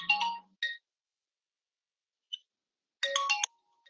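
A mobile phone ringtone chirps in short bright tonal bursts: two quick bursts, a brief blip, then a longer burst, each separated by silence, fairly quiet and with no talking.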